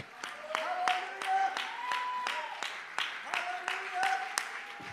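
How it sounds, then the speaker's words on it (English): A church congregation claps their hands together in a steady, even beat over sustained singing and music, the claps sharp and evenly spaced throughout. "Why don't we clap our hands to the Lord and lift up a shout of triumph in this place."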